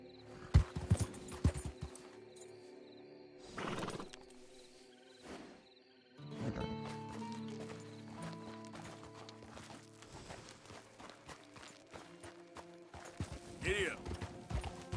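A horse gallops in the video game Red Dead Redemption, with clip-clop hoofbeats coming in bursts and then a steadier run of hooves over quiet background sound, with no voices over it.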